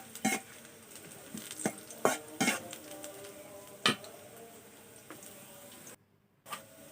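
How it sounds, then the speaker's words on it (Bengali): Cowpeas fry in oil until brown with a soft background sizzle, broken by several sharp clinks and scrapes of a spoon stirring against the pan, then a brief drop into silence near the end. "এগুলোকে একটু ব্রাউন কালার করে ভেজে নেব।"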